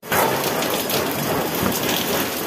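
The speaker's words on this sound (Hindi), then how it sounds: "पानी पानी बहुत जोर गिर रहा है अचानक से तेज हो गया पानी" Heavy rain pouring down suddenly in a steady, dense roar, loud and close, with no pauses or talk.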